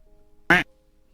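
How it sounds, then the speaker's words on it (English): A single loud duck quack sound effect plays alone against near silence, short and bright, with faint background hum before and after. "Thank you for the quack, Neo."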